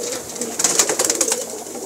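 A blue pigeon coos in a series of soft, low, throaty calls repeated in a quick rhythm, close and clear over light background noise.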